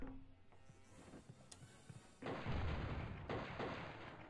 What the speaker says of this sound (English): what's fucking exploding?